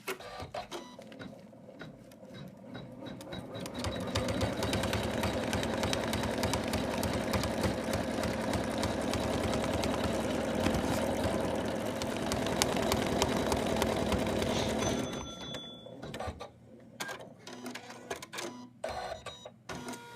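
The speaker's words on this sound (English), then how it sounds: "we're going to go back to the machine and stitch it together" An embroidery machine stitches fabric held in the hoop for an in-the-hoop Santa project, a loud, steady, rapid mechanical stitching chatter running continuously for about twelve seconds before stopping, followed by quieter scattered clicks and handling sounds.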